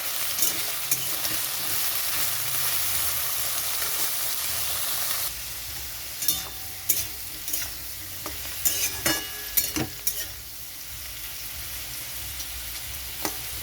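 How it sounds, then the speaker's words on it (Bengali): Papaya frying in a pan for a vegetarian papaya and mung dal dish, with a steady close sizzle broken by repeated scraping stirs of the spatula, which grow more frequent and sharper in the second half. "পেঁপেটা এখন ভালো করে ভেজে নিতে হবে।"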